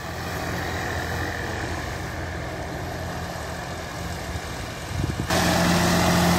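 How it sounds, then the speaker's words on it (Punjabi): A Swaraj tractor engine fitted with a GS Turbo Moga modification runs at a steady, loud idle with a deep continuous drone, swelling slightly louder and fuller near the end, with no talking. "ਟਰੈਕਟਰ ਦੀ ਆਵਾਜ਼ ਦਾ ਵੀ ਬਹੁਤ ਫਰਕ ਪਿਆ"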